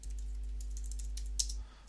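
Typing a password on a computer keyboard, a short run of light, quick key clicks close by with one sharper final press, over a constant low electrical hum.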